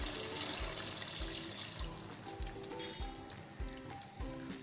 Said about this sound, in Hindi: अब मैं इसमें ऐड करूँगी पानी।